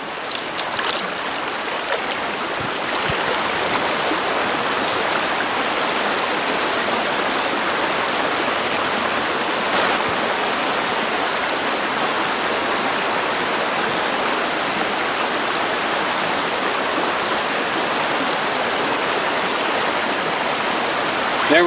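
Steady, close rush of a trout stream pouring and splitting over rocks, a continuous broadband wash with no pauses, no talking over it.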